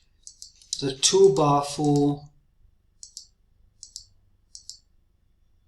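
A computer mouse clicks crisply while working in Photoshop, a few short sharp clicks after a brief bit of talk, isolated against near silence.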